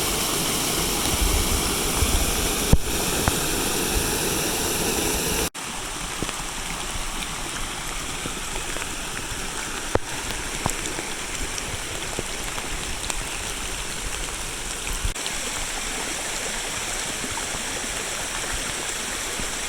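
A stream rushes over rapids where the water is cutting into the ground and deepening its channel. The continuous broadband roar of flowing water dips abruptly in level partway through, then carries on with scattered splashes.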